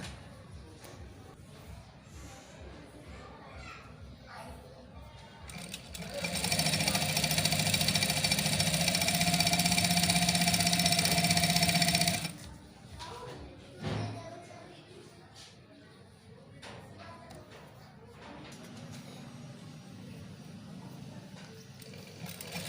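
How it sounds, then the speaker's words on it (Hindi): Sewing machine running steadily for about six seconds while stitching the inner fitting seam of a pair of trousers, loud and continuous, with talk before and after. "अब हम स्टार्ट करते हैं ये फिटिंग की सिलाई जामे की"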